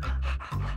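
Close, rhythmic dog panting with quick breathy huffs repeating in short cycles, alone and fairly loud.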